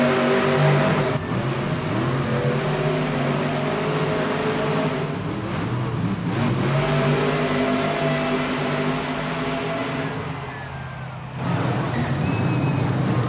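Monster trucks race in an indoor arena during a Monster Jam event, engines droning and revving in a broad, rumbling wash with crowd noise, dipping briefly before surging again.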